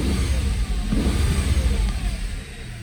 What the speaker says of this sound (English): The exhaust is kind of quiet on this car.